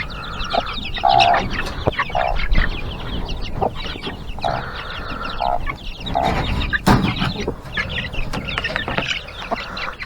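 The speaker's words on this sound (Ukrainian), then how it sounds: "Зараз випущу наших курчат." Young chickens cluck and chatter nearby in a busy, continuous flurry of short calls, with occasional louder squawks rising above the flock, in the morning.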